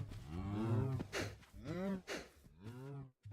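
Cows mooing on a Minecraft farm in the video game, three close, loud drawn-out moos in a row with brief pauses between them.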